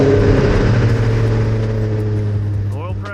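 A Ford SVT Cobra engine idles steady and loud up close on its first start after a cheap rebuild, a deep continuous rumble that eases slightly near the end.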